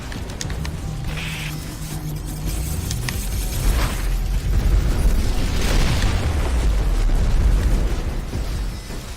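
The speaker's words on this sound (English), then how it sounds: "We're taking heavy alien fire." Alien weapon fire and explosions in the video game X-Morph: Defense, a dense, continuous barrage of booms, blasts and mechanical clatter building louder through the middle.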